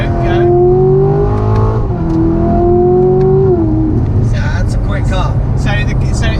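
A 2020 Chevrolet Corvette C7 Grand Sport Collectors Edition revs and pulls through the gears from inside the cabin, its engine note rising and stepping with shifts, while someone talks over it.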